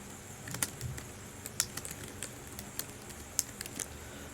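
Keys tapped on a computer keyboard while typing into a text box, giving quiet, sparse clicks with irregular spacing over a low background hum.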